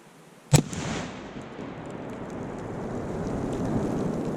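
A single loud blast from a Tannerite charge detonating a turkey outdoors, a sharp sudden boom followed by a long rumbling, debris-like wash of noise that lingers for several seconds.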